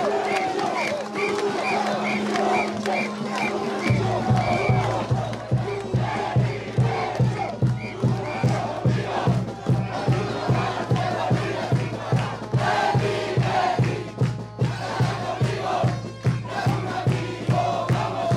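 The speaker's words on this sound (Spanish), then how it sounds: "¡Aplausos!" A large crowd in Bolivia erupts in loud cheering, shouting and rhythmic chanting for President Luis Arce at the inauguration of a multipurpose venue near the border, with a low drum-like beat entering and continuing steadily throughout.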